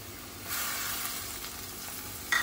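Peas tumble into a pan of sizzling onions, a steady close frying hiss that swells briefly as they land.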